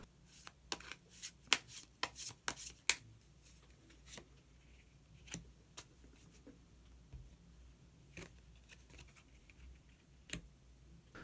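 Tarot cards being shuffled and one more card drawn and laid down. There is a quick run of soft riffling flicks and taps, then scattered light clicks, close and quiet, with no talking.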